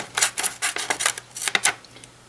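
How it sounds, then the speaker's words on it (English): Scissors snipping through paper trim left over while organizing stamping dies, a quick run of about a dozen crisp, close cuts in uneven rhythm, no talking. "I'm just going to use scissors right now just to speed this up."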